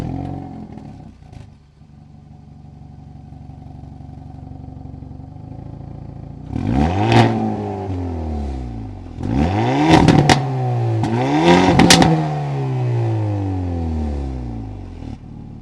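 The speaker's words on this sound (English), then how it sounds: "you're also going to have an amazing exhaust system. This thing sounds way better than you'd expect." Hyundai Elantra N engine with its performance exhaust idling steadily, then three sharp revs that climb and fall back, loud and close, with no talking.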